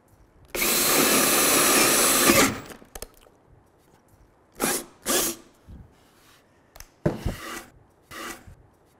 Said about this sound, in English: I'm going to start by drilling a clearance hole.